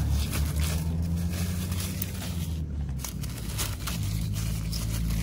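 Sandy plastic rubbish and drink cups being gathered by hand on a beach at dusk, a steady near crinkling and crunching of plastic over constant low wind rumble.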